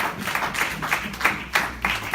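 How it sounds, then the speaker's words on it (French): Scattered clapping from a church congregation, uneven bursts of applause rising and falling with a few louder surges. "Donnez l'applaudissement à Jésus."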